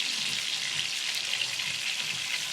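Pork chops frying in a pan over a low flame, a dense, steady sizzle and crackle that holds at a constant level throughout with no voices.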